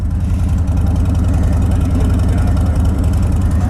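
Harley-Davidson Road King Special motorcycle with the 107 engine idling, loud and close, a steady low throbbing rumble with an even pulsing beat and nothing else over it.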